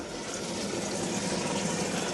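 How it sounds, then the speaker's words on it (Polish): Water flowing into a newly installed tank, a steady, dense rushing and gushing that stays even and close throughout, with no voices. "O, słychać woda leci"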